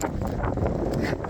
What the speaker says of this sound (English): it is really cold over here, super windy